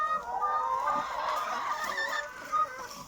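Hens in a backyard coop during egg collecting cluck and murmur steadily at close range, a dense continuous flock chatter with a sharper squawk near the end.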